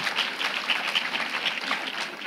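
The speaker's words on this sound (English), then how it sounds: "Let's give another big round of applause for our talented Year 5 performers." An audience at a primary school winter concert applauds Year 5 performers, a short burst of steady crowd clapping in a hall, even and moderately loud with no voices.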